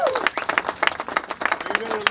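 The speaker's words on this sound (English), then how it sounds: "How about a round of applause for Josh and Marie?" Small crowd clapping at a flag dedication ceremony, a sparse run of distinct claps in an uneven rhythm, fairly close, with voices mixed in.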